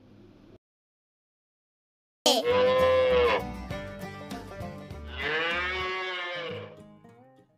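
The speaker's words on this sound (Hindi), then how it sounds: "गा से गाय।" Cow mooing twice in long, loud, drawn-out calls, the first starting after a short silence and the second following soon after, heard alone and close.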